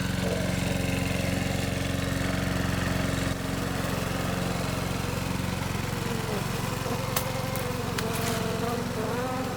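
A lawnmower engine drones steadily and loudly close by, a continuous mid-pitched motor hum with a slight drop in level partway through and a few faint clicks near the end.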